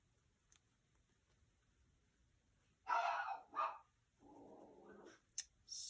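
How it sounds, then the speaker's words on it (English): Dogs bark outdoors at night, with a short burst of two or three loud barks followed by a lower, sustained bark or howl, amid a quiet background with a few faint pops from nearby fireworks. "sorry about the dogs barking."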